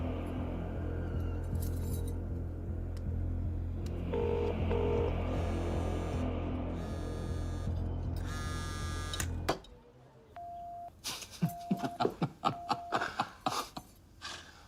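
After a stretch of steady noisy hum, a series of short electronic keypad tones and clicks sound as a phone number is dialed.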